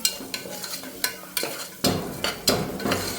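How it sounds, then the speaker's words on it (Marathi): Green peas sauté in a pan with a bright sizzle, broken by repeated sharp stirring scrapes and knocks every half second or so, close up and fairly loud, with no voices. "तो वटाणा आपल्याला छान असा यामध्ये घ्यायचा आहे परतून"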